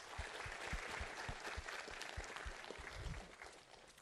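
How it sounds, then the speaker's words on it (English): An audience claps together in a steady patter of applause for several seconds at an event, close and even, thinning out toward the end with no speech over it. "Let's give him a round of applause."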